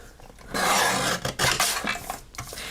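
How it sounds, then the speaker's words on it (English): A blade rasps across a folded paper card as it is trimmed, in a few close, scratchy strokes separated by short pauses, with no talking. "Let me trim off this fold real quick."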